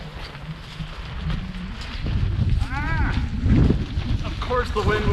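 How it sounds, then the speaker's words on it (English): Wind blowing through a state forest campsite, a steady rushing roar that swells into stronger gusts partway through, with brief bird chirps and rustling near the end. "Of course the wind would blow at this time."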